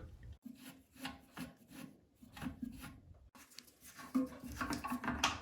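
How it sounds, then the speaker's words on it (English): A screwdriver backs off the plastic screws of a toilet seat while the nut is held underneath, making close, steady scraping and rasping turns in several bursts, with a brief pause partway through. "I'm going to hold the nut while I back off the screw with the screwdriver"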